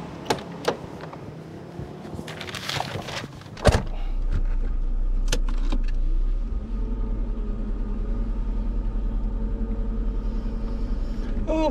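An old car's starter cranks briefly after some clicks and door clunks, then the engine catches with a loud burst and settles into a steady, close idle rumble that continues to the end.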